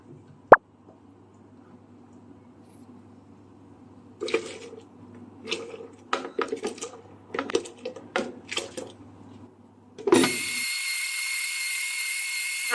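A few light clinks and taps come first, then a blender loaded with almonds and milk for badam sharbat roars on close and loud, grinding steadily until the end.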